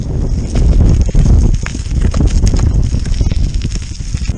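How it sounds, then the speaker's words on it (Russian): Strong, gusty wind carrying snow roars steadily across the microphone, a loud continuous rush with buffeting bursts and no voices. "и ветер со снегом прямо тебе морду."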